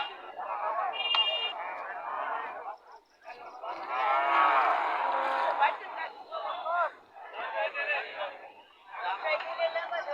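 Cattle at a crowded rural cattle market, with several cows lowing in long moos one after another over a busy background of people talking.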